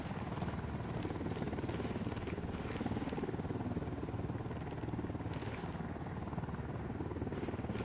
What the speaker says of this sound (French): L'hélicoptère d'Unidad qui est juste au-dessus de nous.